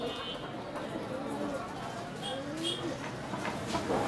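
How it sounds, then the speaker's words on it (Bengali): Doves and pigeons coo softly in a pet bird shop in Konabari, Gazipur. The low, murmuring calls are faint against the room noise, and someone talks over them. "এখানে অনেকগুলো ঘুঘু পাখি আছে"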